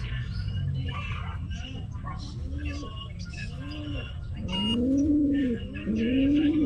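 A pigeon coos repeatedly close by, soft rising-and-falling calls growing louder toward the end, with a person talking at the same time and a low background rumble.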